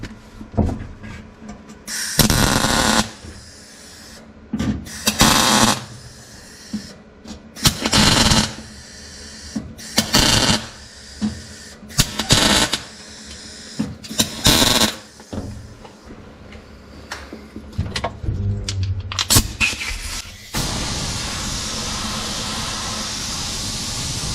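Tack welds joining two truck frames together, heard as a series of loud crackling, hissing bursts lasting a second or two each, spaced apart by short pauses, ending in a steady hiss.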